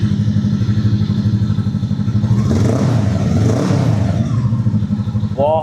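A loud Voge CU 525cc cruiser motorcycle engine idles with a steady, throbbing rumble close by, swelling briefly as it revs in the middle before settling back.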